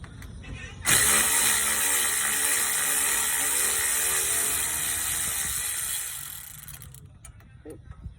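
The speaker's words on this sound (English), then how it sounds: "Put the wrench on there." A ratchet wrench with an 18 mm socket spins on the tie rod of a 2011 Chrysler 200 S, a loud close rapid whirring clicking for about six seconds before fading to quiet.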